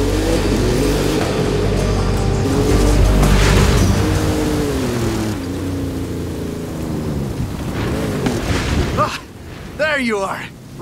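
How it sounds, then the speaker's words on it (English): Thunderstorm with heavy rain in the Forza Horizon 5 racing game, loud rumbling thunder and constant rain mixed with a car engine, under game dialogue, easing off near the end. "The storms can be bad, but the ancient peoples of this region knew the value of the rain."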